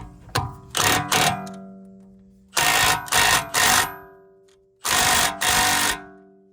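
Impact wrench tightening a wheel bearing bolt on an Audi S6, firing in three loud close bursts of rapid hammering rattle, each with two or three quick pulses, separated by quiet gaps, with no talk.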